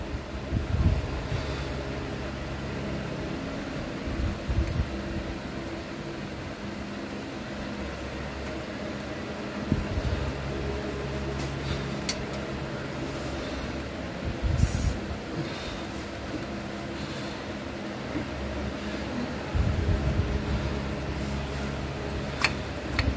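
Compressed air blows steadily through a car's clutch master cylinder during repair, a continuous broadband hiss and rush lasting the whole stretch with small bumps and clicks.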